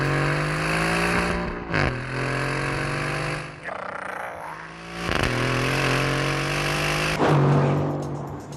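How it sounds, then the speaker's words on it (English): An Aston Martin Vantage engine in The Grand Tour video game revs loudly and close in repeated rising pulls with gravelly harmonics, broken by short gaps between each rev, with no talking. "in an AMG, this engine doesn't make this noise"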